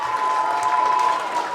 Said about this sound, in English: They're cheering on their players on both sides.